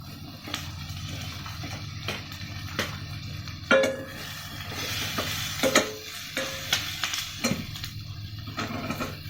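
Brinjal pieces go into a pan of browning onions, a steady sizzle of frying under repeated scrapes and clinks of a spoon stirring against the metal pan.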